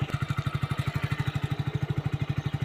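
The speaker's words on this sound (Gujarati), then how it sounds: "બતાવું તમને બાઇક હજી ચાલુ જ છે" A motorcycle engine idling close by putters in a fast, perfectly even rhythm of low thumps with a mechanical clatter on top, steady and loud throughout.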